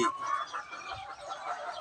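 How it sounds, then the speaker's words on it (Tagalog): Native chicken being readied for laying, giving soft continuous clucks and murmurs up close over a quiet background. "inihahanda ko na po itong isang native na manok ko dito"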